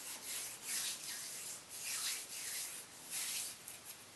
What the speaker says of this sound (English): I can just pick up with my fingers and rub it in and it'll peel off.